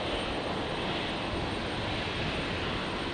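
An airliner on its takeoff roll at Brisbane Airport on a stormy night: a steady, broad roaring engine noise, moderately distant and even in level throughout, with no voices.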